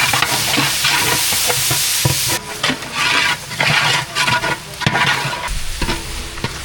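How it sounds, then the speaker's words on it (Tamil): Tomatoes with mint and coriander leaves are stirred and sautéed for chicken biryani, a loud close sizzle broken by repeated spatula scrapes and clatter against the pot, with no talking. "அது கூட தக்காளி சேர்த்துக்கலாம் சேர்த்து நல்லா வதக்கி விட்டுக்கலாம்"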